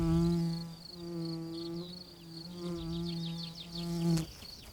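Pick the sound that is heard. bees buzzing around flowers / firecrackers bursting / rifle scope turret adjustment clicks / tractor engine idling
bees buzzing around flowers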